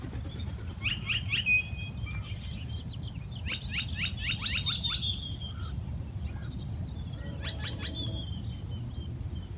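Small birds chirping and trilling in quick bursts at a lakeside fishing spot, fairly distant and faint over a steady low rumble of background noise.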